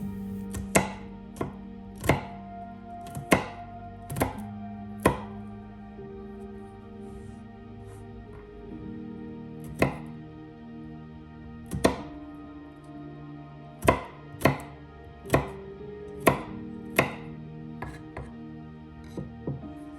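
A knife chopping garlic on a cutting board, sharp wooden taps in an irregular rhythm, some quick bursts, with a low hum underneath.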